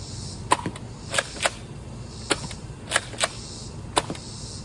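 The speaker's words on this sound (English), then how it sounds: "this blaster has slam fire as well. So I'm gonna do 3 rounds normal fire and then the rest slam fire" A Nerf blaster fires foam darts on a range, giving about eight sharp, snappy pops spaced irregularly, some in quick pairs, close and distinct over faint background hum.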